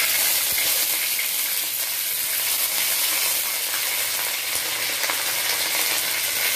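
Curry leaves, green chillies and sliced onion frying in oil, a steady loud sizzle with a bright hiss throughout, close and uninterrupted.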